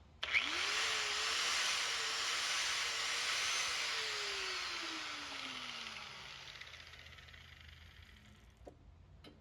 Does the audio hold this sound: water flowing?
no